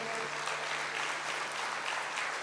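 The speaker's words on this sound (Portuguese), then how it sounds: "Vamos aplaudir ao Senhor." A church congregation applauds in praise, a steady wash of many hands clapping, fairly faint and even throughout with no voices standing out.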